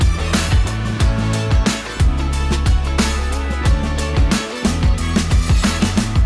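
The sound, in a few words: Guitar part in chorus 3 of a production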